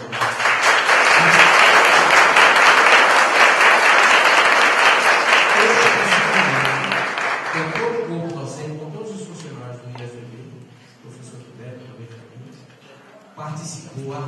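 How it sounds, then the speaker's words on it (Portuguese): Audience at an IFPB graduation ceremony in Princesa Isabel applauds loudly for about seven seconds, the clapping fading as a voice resumes speaking over it. "eu queria pedir uma salva de palmas para o professor Marcos Alonso"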